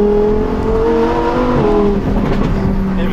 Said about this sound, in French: quand tu vas haut dans les tours, c'est impressionnant